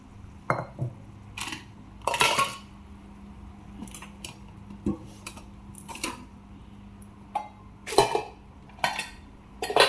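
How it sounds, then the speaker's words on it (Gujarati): Steel pots and pans clatter and clink as they are gathered and set out for washing in a home kitchen, with sharp, irregular metallic knocks and scrapes spread across the clip and quiet gaps between them. "આપણે વાસણ ઘસવાના છે તો બહાર મૂકી દઈએ"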